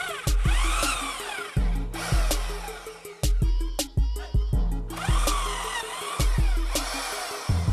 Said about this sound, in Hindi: तो पहले हम इसमें ड्रिल मशीन की मदद से आर पार होल कर लेते हैं।